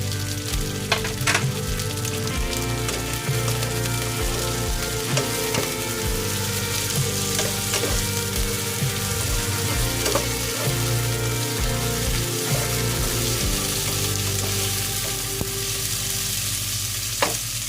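Bell pepper frying in a hot pan for fish escabeche, with a loud, steady sizzle broken by occasional crackles and scrapes of stirring, heard up close with no talking.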